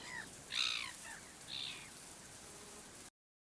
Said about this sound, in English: Only the seagull sounds.